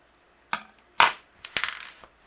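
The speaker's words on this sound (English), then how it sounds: "I will trim away the corners here" A paper card tag has its corners trimmed, giving three or four short crisp snips and crunches a fraction of a second apart, close and quiet with nothing else around them.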